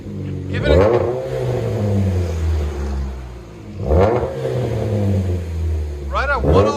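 Revving of a 2007 Pontiac G5's 2.2L four-cylinder through an exhaust with a Vibrant bottle resonator: three rising blips with a deep, droning idle rumble between them, close and loud, with voices speaking over it.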